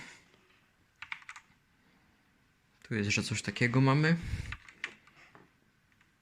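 Keys on a Genesis Thor 300 TKL RGB keyboard click in a few quiet, brief taps, with a person speaking Polish over part of the typing.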